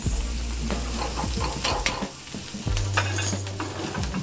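Onions fry in a pan for a masala omelette, a constant close sizzle broken by several scraping stirs of a spatula, with no voices.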